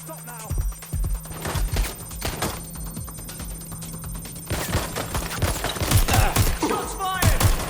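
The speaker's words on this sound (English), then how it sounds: "Shots fired!" Gunfire in Watch Dogs: Legion, sharp shots cracking in bursts and scattered single reports over game music and ambience, with a voice speaking between the shots.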